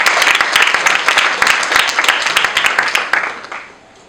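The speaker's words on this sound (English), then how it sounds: "Clap for that guy wherever he is." A graduation audience in Nairobi breaks into loud, dense applause that sustains for several seconds, then thins out and fades near the end.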